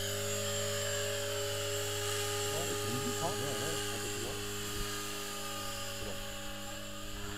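A T-Rex 500 radio-controlled helicopter spins up its rotor, stabilises and takes off, a steady whining motor drone with rising pitch sweeps partway through, while someone talks over it.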